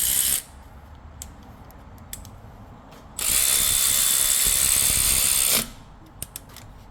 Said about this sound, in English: I know how strong this ratchet is